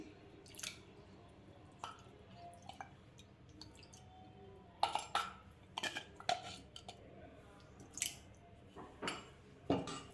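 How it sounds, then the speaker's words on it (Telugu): Soaked basil seeds drop into a lemonade drink with soft wet plops, squishes and small clinks, scattered irregularly over several seconds, close but quiet. "ఇప్పుడు దీనిలో బాగా నాన్న సబ్జ గింజలు వేసుకుందాం"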